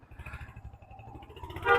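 Motorbike ride along a mountain road near Shimla and Narkanda, with a steady low engine drone and road rumble that swells louder toward the end.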